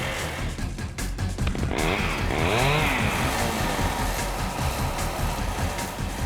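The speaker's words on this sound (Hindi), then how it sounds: "तो हम तुम्हें कुछ बाइक्स की आवाजें सुनाएंगे" A motorcycle engine revs hard nearby with a buzzy, raspy tone, climbing through a few sharp throttle surges before settling into a steady drone.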